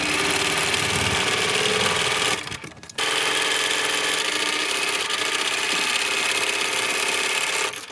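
A sewing machine stitches a quarter-inch seam on a log cabin quilt block, running as a steady, close mechanical whir with a brief pause near the three-second mark before resuming for the rest.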